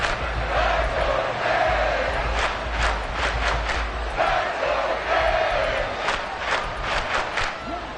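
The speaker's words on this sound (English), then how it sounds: "The crowd getting into it as we come up on a big 3rd down." Video game stadium crowd in Madden NFL 23 roaring and cheering steadily ahead of a big third down, a dense sustained roar with rhythmic swells and surges of chanting layered on top.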